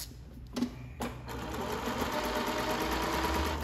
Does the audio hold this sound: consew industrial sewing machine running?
yes